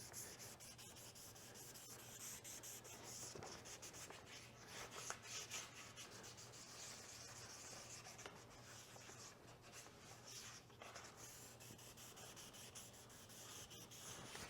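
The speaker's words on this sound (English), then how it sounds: "I'm just sanding down any places where there may have been a burr or a bump or something." Steady hand sanding of a Yamaha YZ250FX dirt bike throttle part to smooth burrs, a continuous close scratchy rubbing with uneven strokes, heard alone with a low background hum throughout.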